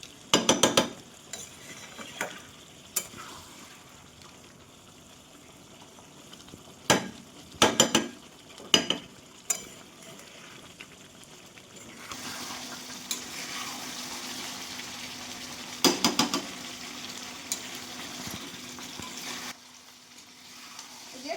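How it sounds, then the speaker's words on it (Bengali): Mutton frying for a Bengali curry is stirred in a pan: a soft sizzle runs underneath while a spoon scrapes and clatters in sharp intermittent bursts, and the frying grows louder partway through. "এরপরে এই জলটা মরা পর্যন্ত কষে নিতে হবে। জলটা টেনে যাওয়া পর্যন্ত কষতে হবে"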